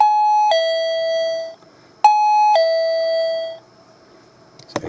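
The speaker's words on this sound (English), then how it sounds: "Let's turn the doorbell on a minute." A wireless doorbell chime sounds twice, each time a loud, clear two-note ding-dong followed by a ringing decay, with a short gap between the two. A faint rustle comes at the end.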